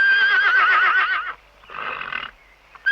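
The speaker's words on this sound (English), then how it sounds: "Then he whinnied a little and stepped towards him." A horse gives a loud, close whinny with a quavering, pitched tremble, then a shorter second neigh after a brief pause, ending in a sharp click.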